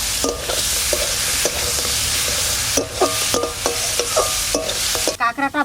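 Crab from a Sundarbans river frying in a pan for a taro-leaf dish, with a loud, steady sizzle and intermittent spatula scrapes and taps, ending in a few louder knocks.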